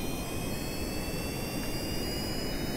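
A rocket engine at full throttle in the Kerbal Space Program video game gives a continuous, roaring jet-like rush that holds steady and loud for the whole short stretch.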